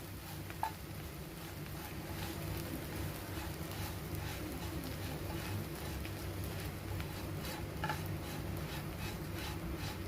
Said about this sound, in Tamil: வெட்டி வச்சுருக்க ப்ரெட்டை நம்ம அதில் போடணும். போட்டு அதில் நல்லா ஃப்ரை பண்ணணும்.